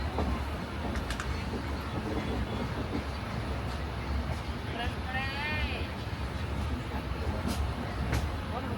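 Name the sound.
inside a moving passenger train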